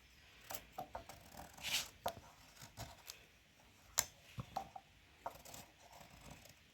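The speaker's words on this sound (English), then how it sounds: "I'm peeling deep, guys, because I don't want the green part to be on the calabash." A knife peels deep into a calabash, removing the green skin: irregular short scraping cuts and soft clicks, one every second or so, close and fairly quiet, with no talking.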